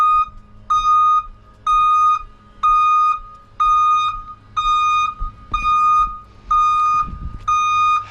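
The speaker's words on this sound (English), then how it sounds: "I have my reverse lights are working properly, and I have an audible alarm" A bus reversing alarm beeps loudly and close in an even repeating pattern, about nine tones evenly spaced with short gaps, over a low engine idle.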